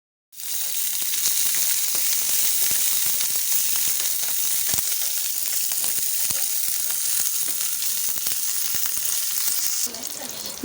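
Onions dropped into hot oil in a pan for chicken chilli, an abrupt start into a loud, steady, hissing sizzle with constant crackling pops and stirring clicks throughout.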